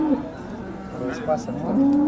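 Cattle lowing close by at the Modnimb cattle market, a couple of drawn-out moos rising over a busy outdoor crowd murmur, with a few bird calls in the background.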